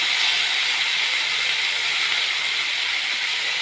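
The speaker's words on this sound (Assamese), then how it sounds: "এতিয়া আমি বিলাহীখিনি প্ৰথমে ভাজি ল'ম, ভালদৰে ভাজি ল'ম" Tomatoes frying in a pan for a vegetarian dish, giving a steady, close, unbroken sizzling hiss that stays even from start to finish with no talking.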